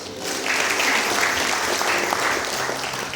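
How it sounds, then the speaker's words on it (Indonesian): A church congregation at a New Year's service claps together, the applause swelling in quickly and staying steady, with a low hum of the room behind it. "Tepuk tangan dulu dong."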